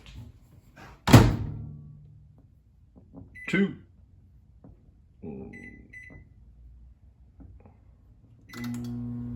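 A loud thunk of a microwave oven door closing, followed by a few soft clicks and short keypad beeps, then the microwave's low steady hum starts.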